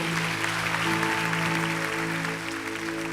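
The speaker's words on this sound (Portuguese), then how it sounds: "Dá um forte aplauso ao Senhor." Congregation applauding during a church service, a steady, loud wash of clapping over sustained organ or keyboard chords that thins slightly toward the end.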